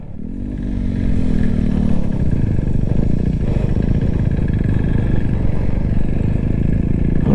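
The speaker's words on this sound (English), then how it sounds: "Doing a pull on the Svartpilen. We're going to do a first gear roll." A Husqvarna Svartpilen motorcycle pulls away in first gear, its engine rising from idle into a loud, steady, close-up rasping roar that holds to the end.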